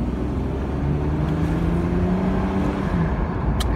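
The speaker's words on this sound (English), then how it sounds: "Get a hint of that nice long rev band from the six." A 1997 Mercedes-Benz SL 320 R129 roadster's six-cylinder engine revving, a steady close engine drone with rising and falling tone as it climbs through the rev range, no talking.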